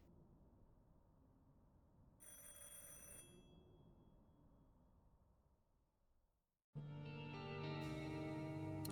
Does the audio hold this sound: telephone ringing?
yes